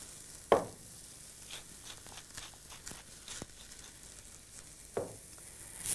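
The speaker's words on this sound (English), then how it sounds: "And then just keep it stirring like that, with the heat fairly high, for about 3 to 4 minutes" A spiced mixture with ground cloves, pepper and salt fries over fairly high heat, soft sizzling broken by scraping stirs and a couple of sharper clacks of the spoon against the pan.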